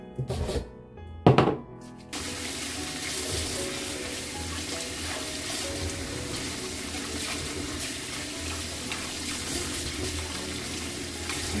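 Water poured into a container of washed cucumbers for making pickles, a couple of brief splashes and knocks first, then a steady continuous rushing pour that fills most of the clip.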